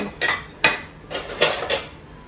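A lid is set over a bowl of kneaded dough in a home kitchen, giving several sharp clinks and knocks of metal and crockery in quick, uneven succession, close by, with no talk.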